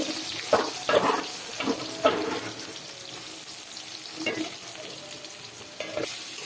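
Chopped onions frying in oil in a kadai for a cock chicken curry, with uneven bursts of sizzling and spoon scraping across the pan, fairly close and moderate, no voices.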